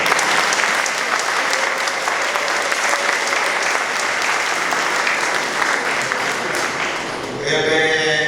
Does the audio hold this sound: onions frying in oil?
no